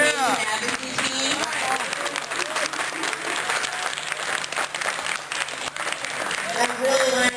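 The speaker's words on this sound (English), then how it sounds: "can I get a big round of applause for the patient advocacy team?" Audience round of applause for a patient advocacy team at a harm reduction dinner, steady dense clapping throughout with voices and talk mixed in underneath.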